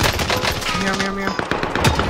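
Rapid automatic gunfire crackles in Call of Duty Warzone on Rebirth Island, with an OTS 9 submachine gun in play: dense, loud bursts of shots rattle continuously, mixed with players talking over the fight.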